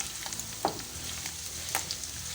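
Potato pieces frying in a pan, a close continuous sizzle with two brief stirring scrapes over a couple of seconds, no voices.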